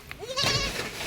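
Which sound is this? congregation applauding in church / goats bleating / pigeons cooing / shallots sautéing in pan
goats bleating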